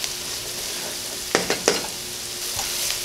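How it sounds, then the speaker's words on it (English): Vegetables with white button mushrooms sauté softly in a pan, giving a faint sizzle with a few brief stirring scrapes near the middle of the clip. "we're just keeping an eye on our vegetables as they saute and combine"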